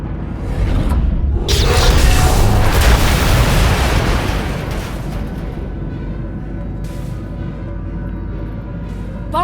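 Heavy bombardment explosions in the video game Star Wars: The Old Republic, Knights of the Eternal Throne, at the Dragon's Maw: a loud wall of booming blasts that peaks early, then settles into a continuous rumbling roar.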